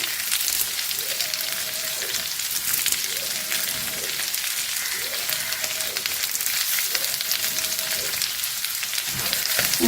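Vegetables sizzle steadily while being sautéed in a pan with curry leaves. A dense, even hiss runs throughout, and four short tonal swells come at regular intervals.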